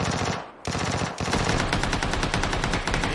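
In the battle royale video game PUBG, close automatic gunfire rattles in long rapid bursts, with one brief pause near the start before the shooting continues loudly to the end.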